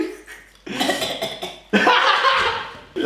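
Loud, harsh coughing close to the listener, a rough bout followed by a second forceful burst, with another starting right at the end.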